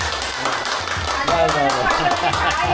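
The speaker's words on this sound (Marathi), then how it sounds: "म्हणून जोरात टाळ्या वाजतात" A group of women clapping loudly together at a Diwali gathering, rapid overlapping claps mixed with chatter and voices throughout.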